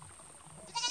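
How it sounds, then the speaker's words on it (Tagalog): A goat bleats once on a farm where fertilizer is being applied, a short, faint-to-moderate call rising at the end over quiet background. "May kambing dito. Yan. Sigaw ng sigaw."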